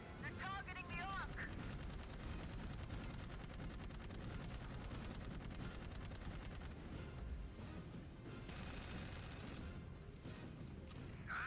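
Heavy cannon fire in the sci-fi shooter Dark Void: dense, continuous rapid booming and gunfire that fills the whole stretch at a steady, loud level.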